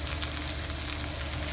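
Sliced zucchini sizzles in a frying pan, a steady, close hiss of hot oil with no break over a very short stretch.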